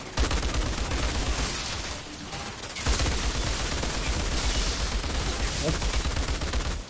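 Enemies firing in the co-op shooter Outriders on PS5: sustained, loud automatic gunfire and overlapping shots forming a dense, continuous barrage with a brief lull in the middle.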